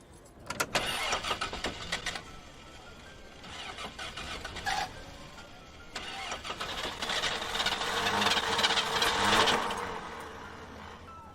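An old van engine cranks repeatedly and fails to start: bursts of starter whirring, separated by pauses, that build into a longer grinding crank near the end, close and loud with no talk.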